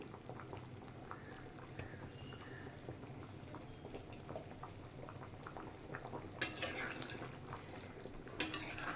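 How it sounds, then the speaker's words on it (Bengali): Katla fish curry broth with fried potatoes bubbles quietly in a pan, a soft continuous simmer with a few light clinks of a utensil against the pot near the end. "ঝোলটা ফুটে উঠেছে"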